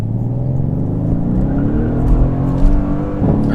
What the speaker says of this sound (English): It'll keep the engine going.